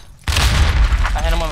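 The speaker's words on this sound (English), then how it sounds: "I'm throwing a frag down" A frag grenade explodes in Call of Duty: Warzone with a sudden loud boom followed by a rumbling, crackling tail, under faint voice chat.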